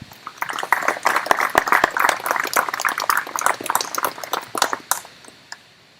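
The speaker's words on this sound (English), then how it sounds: "I think that statement in itself deserves a round of applause" Applause at an outdoor ribbon-cutting event at a botanical garden: dense, crackly clapping from a modest crowd, fairly close, building briefly then tapering off.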